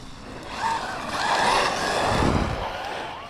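Arrma Mojave 4S RC car running fast on a 5S battery, a high whining electric motor that rises and falls as it speeds past, with gravel crunching beneath the tyres and no talking.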